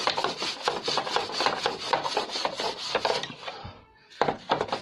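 Brush scrubbing dust off an air conditioner blower, a busy close scratchy rubbing that runs steadily, stops briefly, then resumes with a few more strokes; no talking.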